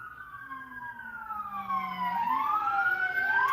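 A police car siren wails through a neighborhood, its pitch sliding up and down in long sweeps and growing louder as it approaches, heard at a moderate distance.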